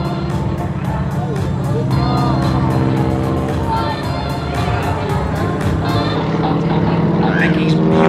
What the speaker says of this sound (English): Vicky's beautiful biplane